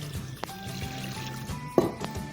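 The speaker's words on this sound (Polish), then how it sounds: "Całość zalewamy około litrem wody, aby się nie przypaliło od spodu." About a litre of water poured into a pot of lamb and cabbage for fårikål makes a short, close liquid pour with a light clink near the end, and no talking.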